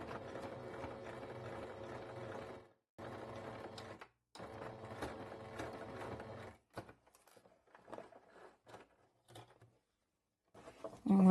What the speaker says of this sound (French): je fais une couture standard, donc point arrière, point d'arrêt et je couds